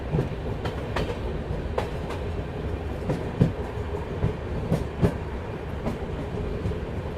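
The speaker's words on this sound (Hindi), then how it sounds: "ट्रैक बदलते हुए फिलहाल हम लोग प्लेटफॉर्म नंबर 1 पे बढ़ रहे हैं।" Bhopal Shatabdi Express rolling over points while changing tracks on its approach to platform 1, a steady rumble of wheels with regular clicking joints and occasional sharper clacks, heard from inside the train.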